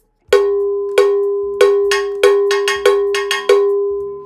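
Low-pitched ULI green diamond cowbell struck eight times in an uneven rhythm, each hit ringing with a bright metallic clank and short sustain, close and loud with no voices.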